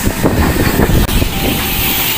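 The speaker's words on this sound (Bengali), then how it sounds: "কিন্তু ট্রেন আসছে" Local train arriving at a station platform, a loud close rumble with rhythmic wheel clatter and hissing noise throughout, without speech.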